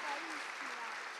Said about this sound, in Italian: Vieni Joyce, facciamo un applauso.